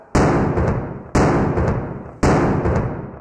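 A midday cannon in Croatia fires, heard as three loud, abrupt blasts about a second apart, each leaving a decaying rumble.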